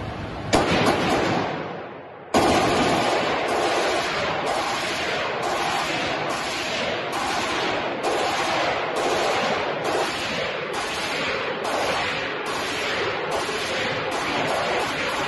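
A fully automatic light machine gun fires in a continuous rapid stream of loud, crackling shots, with a brief pause early on before the long burst resumes and runs steadily.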